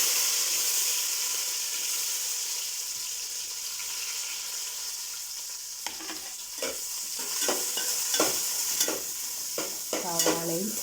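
Chopped onions and shallots fry in hot oil in a pan for a Kerala-style chicken curry, a steady sizzle that swells partway through as they hit the oil, followed by repeated scraping stirs of a spoon against the pan.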